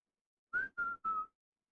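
A person whistles three short, clear, steady notes in quick succession toward their daughter arriving on a front porch, close and alone against silence.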